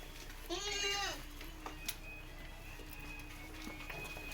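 A single sheep at the Atpadi livestock market gives one short, wavering bleat near the start, followed by faint market background noise.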